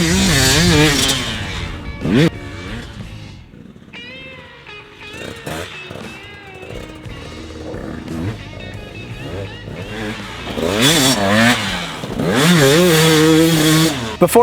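A KTM 200cc two-stroke dirt bike engine revs loud and close, rising and falling in sharp buzzing sweeps with rapid throttle blips, brief lulls in between.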